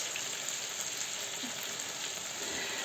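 Steady sizzling of fish frying in a pan, a continuous crackling hiss with no voices, close and moderately loud throughout.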